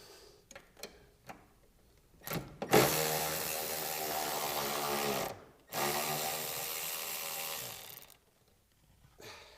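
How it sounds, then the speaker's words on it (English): A cordless electronic ratchet spins off 10 mm bracket bolts on a 2004–2008 Honda/Acura TSX, with two loud whirring bursts of about three seconds each, separated by a short pause and framed by light clicks and handling noises. "this is like the best tool ever in the last 5 years is the electronic ratchet"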